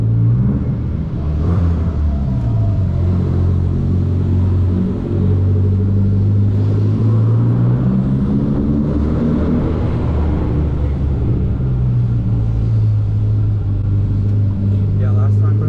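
A 9-liter Dodge Viper V8 rumbles and revs at a car meet, its deep low drone rising and falling in long swells, loud and close, with people talking over it throughout.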